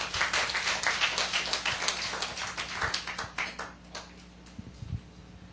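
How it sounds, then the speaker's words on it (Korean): Scattered applause from a church camp forum audience, individual claps clearly separate and fairly close, dense at first before thinning to a few sparse claps and fading toward the end. "박수 부탁드립니다"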